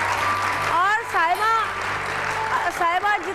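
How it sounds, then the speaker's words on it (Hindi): Applause for Saima, a makeup artist's assistant, on a studio makeup show; the clapping sits under someone talking over it for most of the time. "साइमा के लिए बहुत सारी तालियां"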